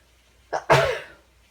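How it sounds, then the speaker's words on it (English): A single loud, close sneeze: a short sharp intake followed by a forceful burst that trails off, no speech. "I'm going to sneeze."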